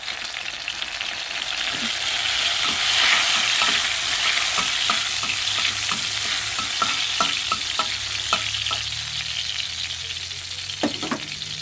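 Garlic and chili sizzle loudly in a hot wok, with a utensil repeatedly scraping and tapping as it stirs.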